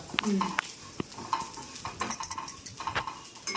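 Vermicelli with cashews and raisins fries in a pan for payasam, a close sizzle under repeated clinks and scrapes of a spoon stirring against the metal, brief and busy.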